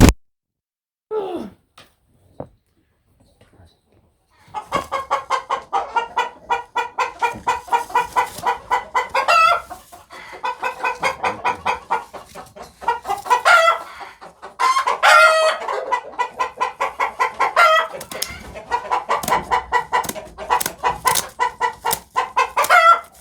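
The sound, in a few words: turkeys clucking while being grabbed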